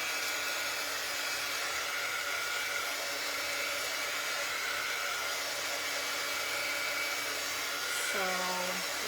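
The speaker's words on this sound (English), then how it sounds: "So let me dry it real quick." A handheld dryer blows a steady, loud whooshing whine for about nine seconds while drying paint on a pink craft pumpkin shelf decoration, then its pitch drops briefly near the end.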